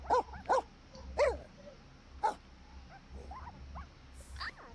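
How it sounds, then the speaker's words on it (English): Dogs fighting in The Sims 4, a few sharp yips and barks near the start, then softer whimpers and growly yelps over a low background hum. "Angel attacked Mr. Wiggles?"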